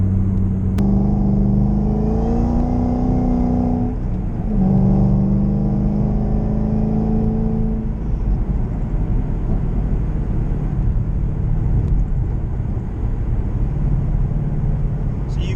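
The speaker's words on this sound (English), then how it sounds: "Downshift, hear the glorious sounds." A car with a manual transmission revs loudly as the driver downshifts, engine pitch rising and falling through two blips in the first half, then settling into a steady low rumble.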